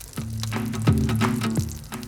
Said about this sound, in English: Hand-ground brisket hits the flame.